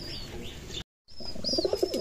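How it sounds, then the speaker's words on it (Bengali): Pigeons coo in a loft holding Pakistani import Teddy pigeons, soft throaty calls with a faint high chirp, cut by a brief silence and then a louder burst of rhythmic cooing. "এখানে এক পেয়ার রানিং পেয়ার কবুতর আছে"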